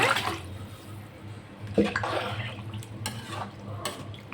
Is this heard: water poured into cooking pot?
yes